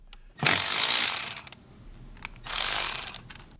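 An 8mm bolt being loosened on a 2021-or-later Ford Bronco engine with a ratcheting wrench: two loud bursts of rapid ratchet clicking, each lasting about a second, close by with a quiet pause between.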